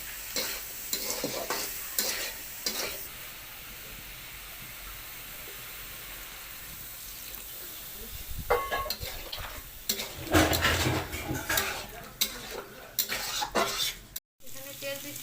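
Chorchori frying in oil with potatoes, jackfruit seeds and ridge gourd, a steady sizzle with scraping and clinking as the pan is stirred, quieter at first and then busier, louder stirring in bursts, with no talking.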